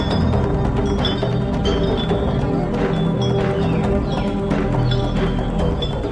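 Steady clip-clop of many horses' hooves, loud and continuous, with occasional whinnies rising over a dense rumbling crowd of a marching ancient army with elephants, oxen and soldiers.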